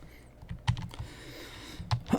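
Quick, light clicking keystrokes tap on a small wireless computer keyboard at a desk, uneven bursts of typing heard up close and fairly quiet.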